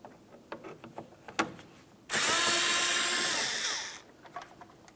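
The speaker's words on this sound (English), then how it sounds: "To remove this bolt, you'll use a T27 Torx bit." A power driver with a T27 Torx bit whirs steadily for about two seconds while backing out a rear shock bolt on a 2010-2013 Ford Transit Connect, preceded and followed by faint clicks and handling noises.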